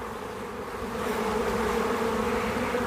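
A swarm of honey bees hums in a dense, continuous buzz close by, growing slightly louder after the first second and holding steady with no talk.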